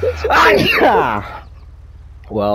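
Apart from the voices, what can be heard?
violent sneeze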